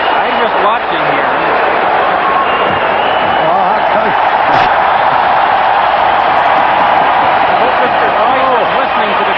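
A hockey arena crowd roaring during a Jets–Maple Leafs fight in 1993: a constant, dense wall of cheering and shouting from thousands of fans, with a broadcaster's voice talking over the top.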